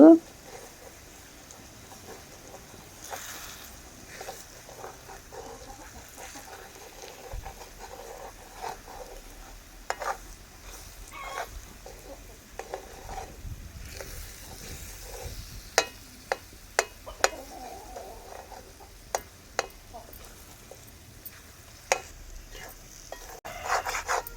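Eggs cook with shredded cabbage in a pan, giving a low, steady sizzle that turns into scattered scraping and tapping of a spatula stirring near the end.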